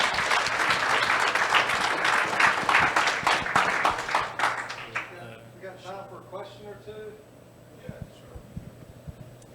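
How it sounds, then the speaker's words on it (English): An audience at a bitcoin conference in El Salvador claps in a dense, loud burst of applause that fades after about five seconds, leaving scattered claps and a voice talking. "give a round of applause to these guys"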